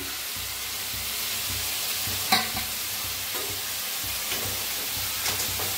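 Washed dill greens fry in a pan, giving a steady, close sizzle broken by scraping and clattering as a spoon stirs them, with one sharper knock partway through.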